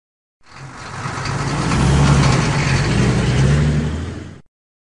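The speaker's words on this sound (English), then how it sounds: "Jump on the table to avoid toy trucks." Toy trucks rumbling past in a Curious George children's video game, a synthesized engine sound that swells in, holds a steady revving drone for about four seconds, then cuts off cleanly.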